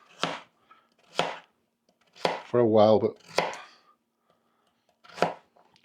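Carrots get chopped with a knife in a kitchen: five or six crisp, close knife strikes spaced about a second apart, with a short stretch of talk in the middle.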